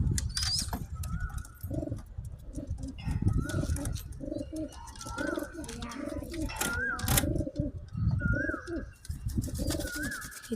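Large pigeons coo repeatedly at close range, soft rolling calls recurring every second or so, with occasional wing flaps and faint rustling in the background.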